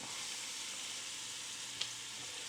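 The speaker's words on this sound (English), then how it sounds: "I'm going to throw in my onion and my carrot." Onion and carrot sizzle steadily in a hot pan beside seared chuck roast for a ragu, a continuous soft frying hiss with one small clink of a utensil.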